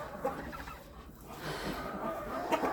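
A bantam hen clucks softly in short, scattered bursts against a quiet farmyard background, near a rabbit hutch.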